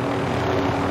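A helicopter flying in a video game gives a dense, steady rotor and engine drone, loud and close, holding without a break for about a second with no voices over it.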